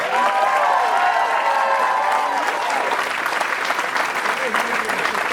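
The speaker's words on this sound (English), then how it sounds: "One more round of applause for Ismael." Loud, sustained applause with cheering from a comedy festival audience for a comedian, a dense wash of clapping that fills the whole stretch and holds steady to the end.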